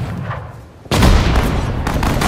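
Gunfire in the WWII strategy game Sudden Strike 4, Pacific War Japanese campaign: quiet muffled rumble, then a sudden loud blast bursts in and rolls on as sustained, booming fire with a second burst near the end.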